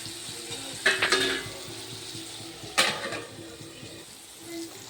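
Spices being stirred into hot oil in a pan for dhaba-style palak paneer: a low, steady sizzle broken by two sharp scraping clatters of the spoon against the pan.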